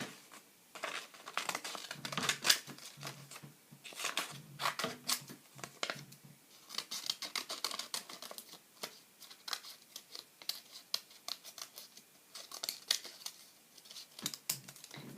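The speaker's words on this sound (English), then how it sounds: "Now I'm going to cut these 2 out." Scissors snip repeatedly through paper while cutting out snowman shapes for a Christmas art project, a close run of quick, irregular crisp cuts with short pauses and light paper rustles between them.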